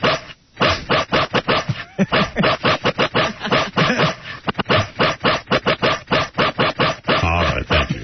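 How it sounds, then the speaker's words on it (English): A dog barks repeatedly on a recorded 911 phone call, the barks and yelps loud and close over narrow telephone-quality sound, coming in quick irregular bursts with short whimpering gaps. "We have a tape of the actual 911 call the dog made."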